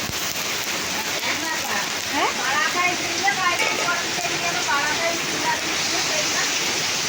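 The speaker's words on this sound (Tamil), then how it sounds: "இங்கே பாருங்க சாரல் பயங்கரமாக அடிக்குதா" Heavy drizzle of rain falling steadily as a continuous hiss close by, with faint background voices and birdlike chirps mixed in under the constant wash.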